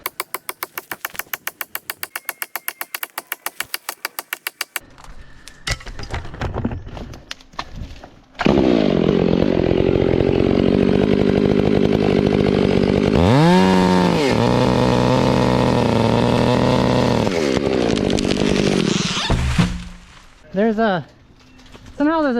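A loud chainsaw revs and cuts steadily through a felled tree's hinge for several seconds, with brief idling, sputters and snaps as the cut finishes.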